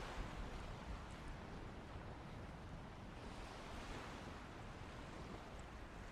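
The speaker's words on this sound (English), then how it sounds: "I'm sat right by the water. You could probably hear it." Water washing against a nearby shoreline gives a steady, soft, broadband wash with no distinct breaks and no voices.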